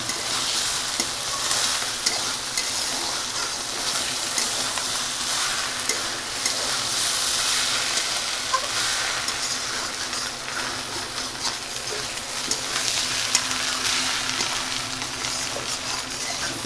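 Home-ground spices, crushed on a grinding stone, sizzling in a pan for Gobindobhog rice khichuri; a loud, unbroken frying hiss with faint stirring runs close-up throughout.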